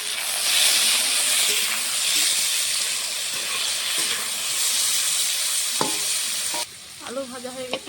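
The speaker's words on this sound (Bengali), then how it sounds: "আলুটা ভেজে নেব। সামনেটা একটু নেড়ে দেবো।" Potatoes fry in mustard oil in a pan, a steady loud sizzle with occasional scraping stirs, until the hiss drops away near the end and a faint voice begins.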